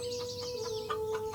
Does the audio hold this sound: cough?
no